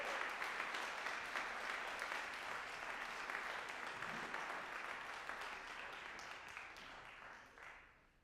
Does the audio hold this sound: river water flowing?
no